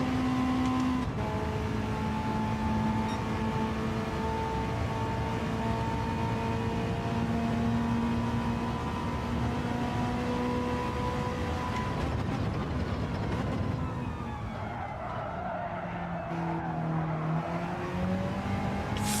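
A race car engine in a video game time trial drones loud and steady, with sustained tonal whine shifting pitch through gear changes and a dip and rise near the end, heard alone without talk.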